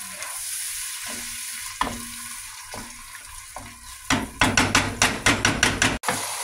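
Chopped tomatoes going into a hot frying pan for chicken kabsa sauce, a continuous sizzle broken by a few soft knocks, then a run of rapid rhythmic scraping and stirring strikes against the pan.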